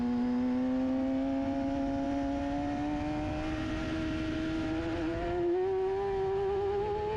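A racing motorcycle on a Pirelli rear tyre pulls hard along the track, its engine note climbing steadily in pitch as it accelerates, loud and close, with a brief dip before rising again.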